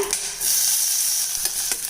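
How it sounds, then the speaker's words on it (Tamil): Steady loud sizzling of chopped onions frying in hot oil, with occasional stirring scrapes, no voices. "இப்போ நம்ம நறுக்கின வெங்காயம் சேர்த்துடலாங்க"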